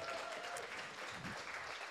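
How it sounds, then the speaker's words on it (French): Short burst of applause from a small audience at a French-language podcast recording, dense and even, with faint voices mixed underneath. "Oui, on applaudit ça."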